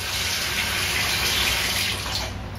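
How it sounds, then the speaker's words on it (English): Tap water runs steadily into a sink while parts of an Omega Vert 350 juicer are rinsed clean, a continuous close rushing stream that stops abruptly at the end. "and just run the water through here."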